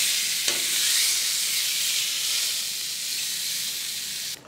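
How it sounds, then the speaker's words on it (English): A bison tomahawk steak sears on a grill, giving a loud, continuous, close sizzle and hiss that holds steady throughout before cutting off abruptly at the end. "There, look at that, searing."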